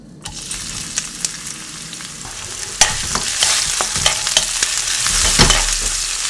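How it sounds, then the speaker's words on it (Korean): Onions stir-fried in perilla oil in a heated pan, a steady sizzle with scraping stirs and sharp clinks that grows louder and busier partway through, with no talking. "살짝 달군 다음에 양파 투하하겠습니다"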